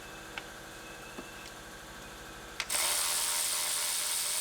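A ratchet working on a Silverado engine during a rebuild, a few faint isolated clicks followed by a sudden burst of loud, steady whirring, close up with no voices.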